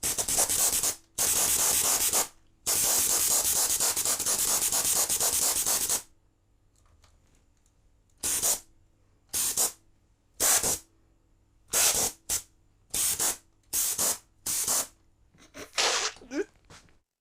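Gas-powered thrusters on an experimental drone hiss in loud broadband bursts, first long sustained blasts, then a run of short sharp puffs after a pause, all close by with no talk.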